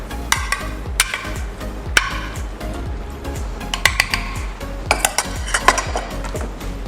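Broccoli mac and cheese pasta being stirred in a pot, a spoon scraping and clinking against the metal in a quick uneven rhythm of close, sharp knocks.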